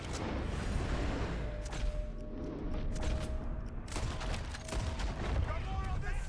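Gunfire in the video game Red Dead Redemption 2 during a shootout: repeated sharp shot bursts scattered across the clip over a dense, constant background of battle noise.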